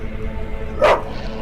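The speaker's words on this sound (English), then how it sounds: "What are those dogs doing?" A single short dog bark from the video game The Witcher, rising briefly over a steady low background hum, with no talk.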